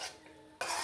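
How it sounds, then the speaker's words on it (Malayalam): A spoon scrapes and stirs egg through masala in a pan for a Kerala-style egg roast, with close, busy clatter that briefly eases and then returns more loudly. "ഈ മുട്ട കൂടി ഇതിലേക്ക് ഇട്ട് കൊടുത്ത് നന്നായിട്ട് ഇളക്കി യോജിപ്പിച്ചെടുക്കാം"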